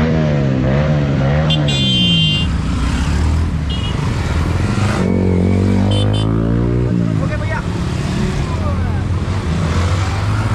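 Yamaha motorcycles fitted with aftermarket exhausts rev and rumble loudly at a rally start, engine pitch rising and falling over steady crowd chatter, with a few horn toots cutting through.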